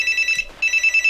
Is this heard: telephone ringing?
yes